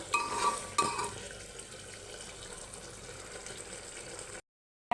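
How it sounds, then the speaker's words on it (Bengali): Fried onions (beresta) being stirred in a cooking pot while making maqluba, with a couple of scraping strokes near the start followed by a steady low sizzle and soft clatter, alone and without talk. "বেশি করে বেরেস্তা দিয়ে দিলাম দিয়ে এটাকে সুন্দরভাবে নাড়াচাড়া করে দিব"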